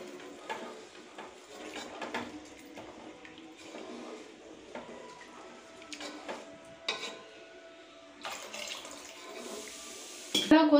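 Water is poured into a simmering lentil dumpling curry in a kitchen: running, splashing water with scattered clinks of pots and utensils and a louder clatter near the end, with faint talk at times.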